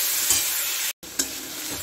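Spice masala fries in hot oil and is stirred for bottle gourd khichuri, a steady loud sizzle with a scrape of stirring. The sizzle cuts out briefly and then returns, with no voices.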